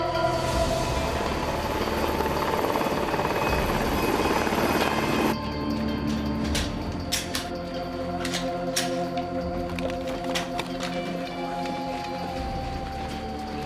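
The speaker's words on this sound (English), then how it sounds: "That chopper's one of ours." A police helicopter passes overhead with a loud, continuous rotor drone and whine, steady throughout with slight shifts in pitch, and a few faint clicks in the background.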